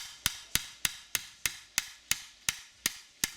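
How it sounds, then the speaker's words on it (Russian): Old oil seal of a Mercedes W210 E270 rear differential being hammered out: twelve sharp, evenly spaced metallic blows, close and loud, with nothing else between them. "Вот с этой стороны видно сальник. Забиваем старый сальник."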